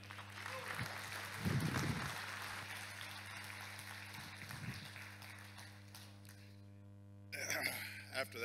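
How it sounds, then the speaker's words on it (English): Conference audience applauding a speaker at a software developer event, a broad steady wash of clapping over a constant mains hum, fading toward the end as a voice begins. "Massive round of applause."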